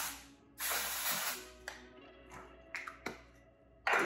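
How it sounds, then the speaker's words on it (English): Dry shampoo sprayed onto hair roots from an aerosol can, several short, close hissing bursts with brief pauses between them, no talking. "So I'm gonna start with dry shampoo. At my roots."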